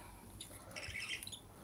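A pet budgie squawks and chirps in a short, fairly faint burst of calls, with no talking over it.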